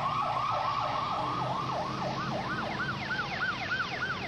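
An ambulance siren wails in a fast, repeating up-down yelp, moderately distant, over the steady hum of road traffic.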